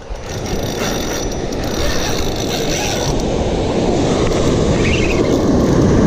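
On a beach at night, a fishing reel clicks and ratchets as the rod is pumped and line is wound in against a hooked gummy shark. The mechanical winding sits under steady surf and wind rumble.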